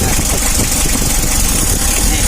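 A Mitsubishi L300 engine, one that is hard to start when hot, runs close by with a loud, dense, steady drone and rough vibration, holding fairly even throughout rather than rising in clear surges.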